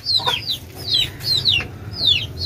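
A hen clucks in short repeated calls, several soft bursts close by in a quiet farmyard setting, with faint background hum and no talk.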